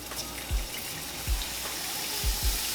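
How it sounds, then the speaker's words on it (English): Hot water is poured into a pan to deglaze it for gravy with smothered hamburgers, giving a steady liquid wash broken by several low thumps as the pan or container knocks, with no talking. "we're going to go ahead and add us in some hot water or warm water"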